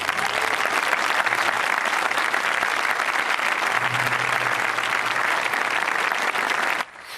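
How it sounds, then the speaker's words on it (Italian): A packed open-air theatre audience at Tindari applauds Va Pensiero during a performance of Verdi's Nabucco, a loud, sustained and dense clapping ovation that holds steady before cutting off abruptly near the end. "il pubblico interrompe la scena con un applauso che dura diversi minuti"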